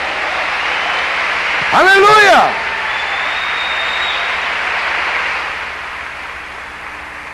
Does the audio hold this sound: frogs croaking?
no